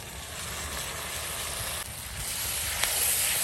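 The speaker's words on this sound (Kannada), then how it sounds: "ಈಗ ನಾನು ಇದಕ್ಕೆ ಹಾಕ್ತಾ ಇದ್ದೀನಿ 5 ಟೊಮೆಟೊ" Five tomatoes drop into softened onions in a pan for dhaba-style egg butter masala, giving a steady close sizzle and hiss that rises slightly toward the end, with no talking.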